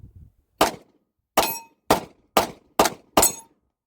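Six sharp Glock 17 Gen 5 pistol shots in an uneven rhythm, each a loud crack ringing off steel targets with a brief metallic decay, plus a faint thump at the start.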